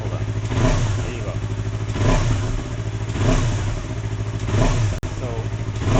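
A motorcycle engine revs in repeated bursts as a DIY quickshifter button is pressed, loud nearby rises about once a second over a steady idle, with a sharp click near the end.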